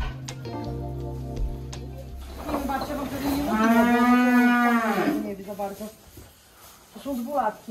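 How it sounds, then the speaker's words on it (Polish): Cattle in a barn, mostly young heifers, give a long, loud, close moo that rises and falls, with other farm sounds before it and people talking around it. "Jest tu również kilka sztuk bydła,"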